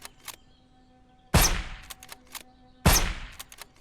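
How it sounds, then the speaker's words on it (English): Two loud, close gunshots from the player's weapon in the post-apocalyptic game SurrounDead, each a sharp crack with a ringing tail, spaced about a second and a half apart over quiet game ambience. "This gun is amazing."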